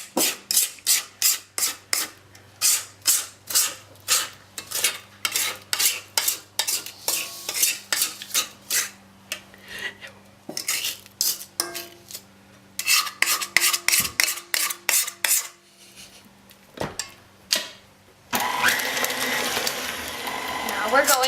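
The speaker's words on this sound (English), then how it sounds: "We're going to mix on low speed." An electric mixer beats cake batter on low speed in a bowl, a rhythmic run of whirring, scraping bursts that goes on for most of the stretch and ends in a broader, steady rush.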